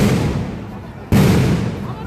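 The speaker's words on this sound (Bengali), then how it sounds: "sound grenade" A police sound grenade bursts during a street protest, a sudden loud blast cutting through a steady crowd din, followed by lingering rumble.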